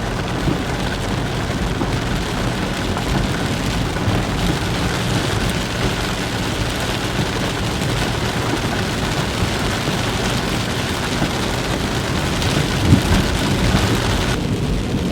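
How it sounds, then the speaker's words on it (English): Heavy mountain rain pours steadily while deep thunder rumbles through the downpour, a dense and continuous wash of sound with no voices. "come down from a mountain in the thunder and lightning, the pouring rain."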